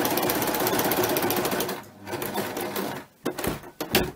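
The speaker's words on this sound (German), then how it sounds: "Und jetzt ganz vorsichtig anfangen zu nähen." A sewing machine stitching felt, its needle hammering in a fast steady rattle close by, then briefly pausing and restarting in short bursts.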